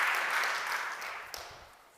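Audience applause for conference panellists at a finance and transition plans event, a dense wash of clapping that starts loud and gradually fades over two seconds.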